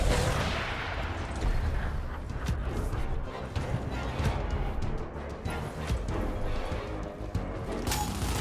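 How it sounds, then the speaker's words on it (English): A Brumak unleashes a barrage in the Gears Tactics video game on Xbox Series X, a dense, continuous roar of rapid blasts and crashing impacts that stays loud and busy throughout, with no talking. "BRUMAK firing a barrage!"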